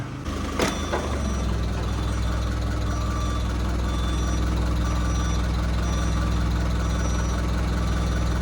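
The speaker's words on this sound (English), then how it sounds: "I'm just going to back it on up here off the concrete and get ready to hook the backhoe onto it." A John Deere B tractor engine idles steadily as the tractor backs off a concrete pad, a continuous low rumble with a brief clank near the start, close and loud with no talk.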